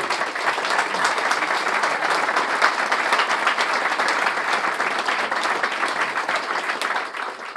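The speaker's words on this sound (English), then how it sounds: "Can we give him a big round of applause?" A packed lecture room at MIT gives a big round of sustained applause for a rapper, dense clapping holding steady for several seconds before beginning to taper at the end.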